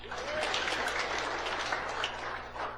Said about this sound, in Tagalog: Palakpak kanya na.